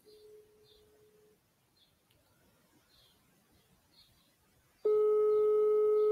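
A sales prospecting phone call starts with a steady dial tone that stops. A quiet pause with faint chirping birds follows, then a loud, steady ringing tone cuts in abruptly and keeps going.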